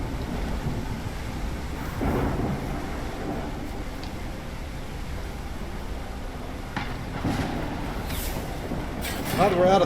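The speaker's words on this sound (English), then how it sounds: "I feel like that thunder crack needs a little bit more bass to" A rumbling thunder crack from the video game Deadhaus Sonata rolls through steady rain-like noise, building toward the end, with a voice talking over parts of it.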